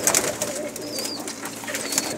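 Pigeons cooing on a rooftop, soft low coos repeating close by amid faint outdoor background noise and a few brief higher chirps.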